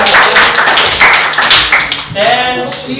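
A classroom of students applauds a classmate with brisk, dense clapping that tapers off after a couple of seconds, loud and close.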